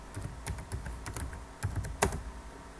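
Light tapping on a computer keyboard, a handful of quick keystrokes in short uneven bursts, close and quiet, with no talking.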